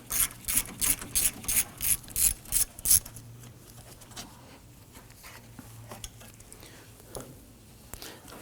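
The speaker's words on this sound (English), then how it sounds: "There's a 10mm bolt holding that as well. Loosen and remove this bolt." A ratchet wrench loosening a 10mm bolt on the AC condenser of a 2015-2024 Nissan Murano, about ten crisp, evenly spaced clicking bursts up close, followed by quieter handling noises.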